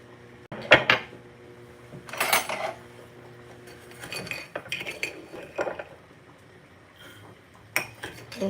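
Metal spoons clink and scrape against a cup while tea with honey is prepared, several sharp bright clinks and rattles spaced over a few seconds, close and moderately loud.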